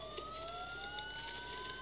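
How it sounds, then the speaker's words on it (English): A police siren wails with a rising tone in the video game Batman: Arkham Asylum, faint and distant, under a low background hum. "Sirens."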